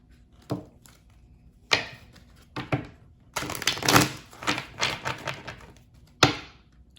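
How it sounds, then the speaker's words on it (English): Tarot cards are shuffled and pulled in crisp, close bursts of riffling and slapping, separated by short quiet gaps, with a dense run of flicks in the middle. "So let's pull some cards to clarify."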